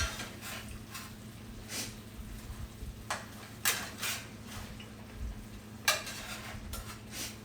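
Food sizzles softly in a frying pan as it is flipped, with a low steady crackle broken by several sharp scrapes and clinks of a utensil against the pan at irregular intervals; no talking.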